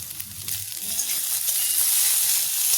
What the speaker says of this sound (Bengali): টমেটোটা এমন ভাজবো যেমন গলে যায়